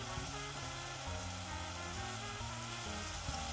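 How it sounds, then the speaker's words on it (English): Diced onion frying in olive oil in a casserole, a soft, steady sizzle heard up close with low background hum and no speech. "I'm going to add some olive oil to my casserole, and I'm just going to add a diced onion"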